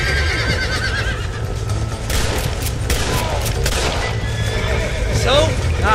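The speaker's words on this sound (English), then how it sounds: "Work them horses!" Horses in the Red Dead Redemption video game whinny loudly over galloping hooves, with bursts of gunfire crackling in the middle and a shrill neigh near the end.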